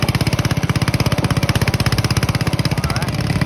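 A Honda-engined Farmall tractor running in road gear, its engine pulsing in a fast, steady rapid thump, loud and close for the whole stretch.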